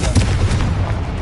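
Confringo fire spell exploding in the Hogwarts Legacy video game, a loud, close booming blast that fills the whole short moment with a rumbling roar and no trailing silence.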